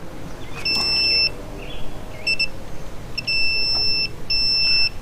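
A multimeter's continuity tester sounds a series of sharp high-pitched beeps in four bursts of uneven length, with a quiet gap between each, during power trim wiring diagnosis.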